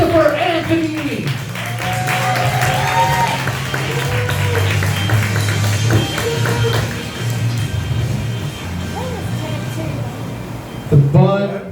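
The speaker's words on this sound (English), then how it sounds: "Let's give a big round of applause" A comedy club crowd at Jinx Bar applauds a stand-up comedian, with clapping and cheering rising under an emcee's amplified voice, then fading as talk continues, with a brief burst of claps near the end.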